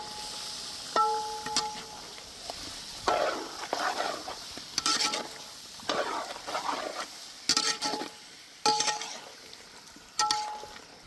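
Chicken sizzling in a hot pan while being stirred, with scraping strokes in bursts and occasional metallic clinks of a utensil.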